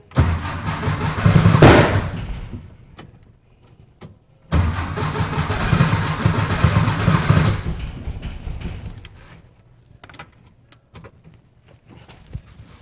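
A 1964 VW Beetle with dual EMPI carbs cranks and catches in two loud bursts, each starting abruptly and rumbling into rough running before fading out, with faint clicks in the quieter stretches between.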